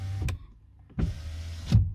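Power window motor in a Citroën C4 Grand Picasso with a faulty, intermittently responding switch: short whirring runs start and stop with clunks, loud and close, no speech.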